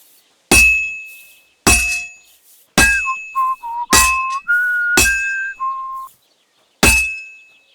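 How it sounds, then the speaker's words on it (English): A smith's hammer strikes a sword on an anvil in Kingdom Come 2, six sharp ringing metallic clangs spaced about a second apart, each leaving a bright sustained ring, with short whistling tones between some blows. "Now take the hammer and try hitting it a few times."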